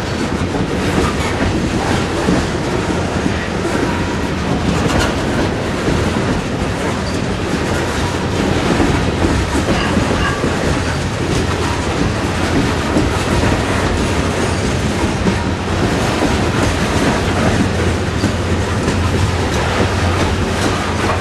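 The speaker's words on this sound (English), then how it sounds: "Looks like about 15 of these 5-bay hoppers coming up here." Loaded five-bay freight hopper cars on a CSX train roll steadily past close by, a continuous rumble with rhythmic clickety-clack of wheels over rail joints lasting the whole stretch.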